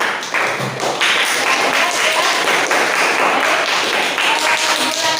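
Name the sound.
class applause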